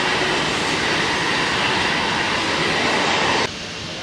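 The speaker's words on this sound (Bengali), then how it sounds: "বন্ধুরা এই যে ট্রেনটি আসছে" A Kolkata Metro train rumbles into the station with a loud, dense roar, dropping slightly in level near the end, with no voices.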